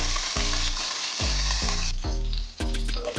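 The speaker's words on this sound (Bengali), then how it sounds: "লঙ্কাটা দিয়ে আমি এখন একটু নেড়ে চেড়ে নেব" Green chilies frying in hot oil in a pan as they are stirred, a loud crackling sizzle with rhythmic spatula strokes repeating several times, close up.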